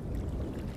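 A boat is rowed alone on a wide river at night in a cartoon, a soft low wash of water and wind-like rumble, continuous and fairly close.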